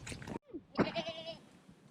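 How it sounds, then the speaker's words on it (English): A lady goat at a goat house on a farm bleats in a loud, wavering cry after a short burst of other noise, heard close and alone with no talk. "So, you've all met Brownie before, our star lady goat."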